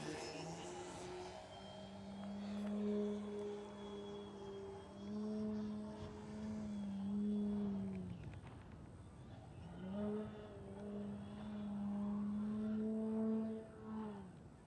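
A small engine on a 78-inch ExtremeFlight Extra NG model airplane drones overhead, its pitch rising and falling as it passes, fading midway and then returning, steady and moderately distant.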